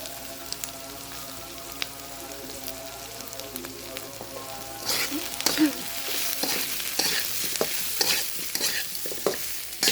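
Fish cooking in a pan with taro stolons, turmeric, chilli, garlic, ginger and cumin paste: a low simmering sizzle that grows busier halfway through, with scraping and stirring clatter from a spoon close by.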